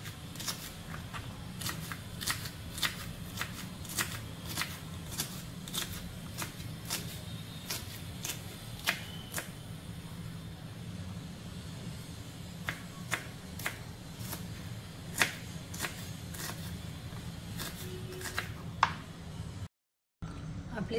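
A knife taps sharply on a board while chopping capsicum into small pieces, quick crisp clicks in uneven bursts over a low background hum, with a brief dropout near the end.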